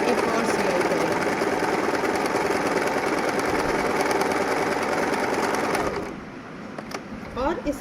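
An electric sewing machine stitches a second parallel seam half an inch from the first on fabric during a pleats, darts and gathers practical. It runs loudly and continuously for about six seconds, then stops, leaving quieter room sound.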